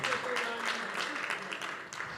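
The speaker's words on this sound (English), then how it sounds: "Let's give them a big round of applause." Audience applause at a benefit show, a steady dense clatter of clapping filling the space, with a few voices calling out beneath it.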